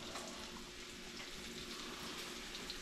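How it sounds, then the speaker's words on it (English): Pompano fillets sizzle in a hot frying pan, a faint, steady crackling hiss that runs unbroken throughout with no talking. "We're just looking for a nice sizzle."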